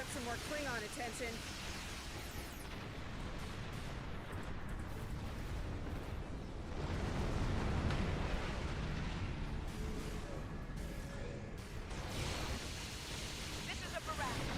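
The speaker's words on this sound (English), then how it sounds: "This is a barrage. Our shields are buckling." A starship in Star Trek Online under a heavy weapons barrage from Klingon attackers, a dense continuous roar of blasts and rumbling impacts that swells midway, with voices talking over it.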